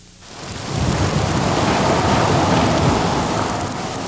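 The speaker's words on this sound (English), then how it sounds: "The skies rumbling as an onslaught of ice pellets continued to wreak havoc with roads and power lines." Thunder rumbles through Quebec's 1998 ice storm as ice pellets fall, building into a loud, dense, continuous roar that swells and holds steady with no talk.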